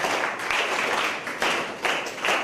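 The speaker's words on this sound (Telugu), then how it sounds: "అమ్మాయికి ఒకసారి క్లాప్స్ గట్టిగా." A group gives a girl a round of loud applause during a tower-building business game, the clapping rising in repeated surges and staying dense throughout.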